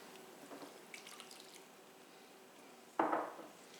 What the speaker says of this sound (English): Also going to add 3/4 of a cup of warm water